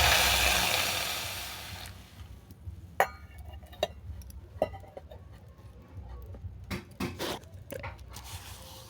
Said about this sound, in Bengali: এরপর দিলাম জল।